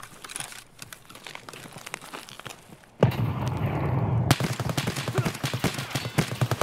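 A grenade blast followed by automatic gunfire in Escape from Tarkov, with a loud burst partway through and then a steady stream of rapid shots close by.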